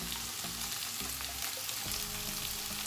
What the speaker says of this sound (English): Now I'm going to add the rest of the vegetables, capsicum, green capsicum,